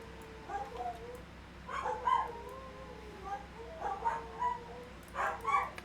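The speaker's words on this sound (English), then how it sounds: "Apparently it's singing time for my dogs." Dogs howling and whimpering indoors, several rising, wavering howls in bursts with short pauses between, fairly close and moderately loud over a low background hum.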